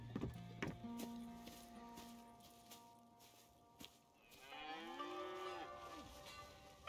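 A cow in a video game lets out a long, drawn-out moo over a quiet steady hum, preceded by a few soft clicks and knocks.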